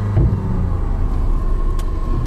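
A car's 1.9 L, 120 hp engine idles and rumbles steadily up close, the revs rising slightly in a low, even drone with no talking.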